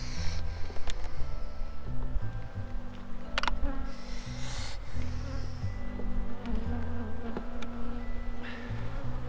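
Honey bees swarm out of an opened beehive as a brood frame is lifted, their steady, close buzzing droning continuously with shifting pitch throughout.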